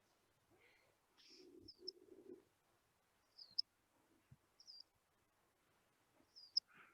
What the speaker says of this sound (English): Song sparrow.